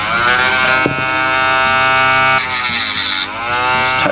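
A Dremel rotary tool touching up the cut ends of OO narrow gauge model railway track gives a loud, steady buzzing whine that shifts in pitch as it meets the rail, running the whole time with no talk.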